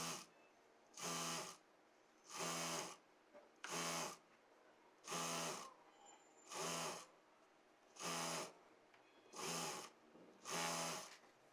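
A sewing machine stitches a belt seam on a salwar in about eight short, regular bursts, each roughly a second long and separated by brief pauses, heard close and alone.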